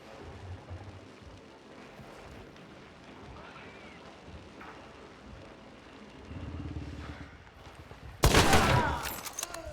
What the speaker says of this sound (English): I hear the gunshot and it literally coming somewhere not too far from my right